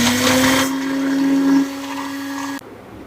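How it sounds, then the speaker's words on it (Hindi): A mixer grinder jar whirs loudly as it grinds broken Oreo biscuits, a steady motor whine that drops in pitch partway through and cuts off near the end, with no talking. "अब हम बिस्किट को भी अच्छे से ग्राइंड कर लेंगे।"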